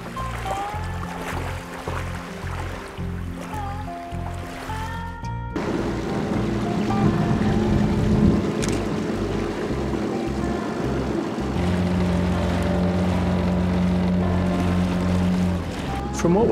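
A small dinghy motoring over a coral reef off a remote Indonesian island, its outboard droning steadily and close throughout, with water and wind noise around it; no other sounds stand out.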